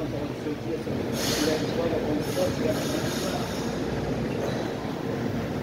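A Brasília metro train pulls into a station with a steady rumbling roar and a hissing, squealing high edge from its wheels, moderately close and continuous throughout.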